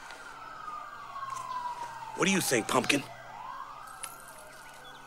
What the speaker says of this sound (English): I can't think with all these sirens.